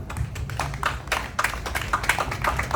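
A small audience at a health conference claps in scattered, uneven bursts of individual hands, quiet and somewhat distant, with no voices over it.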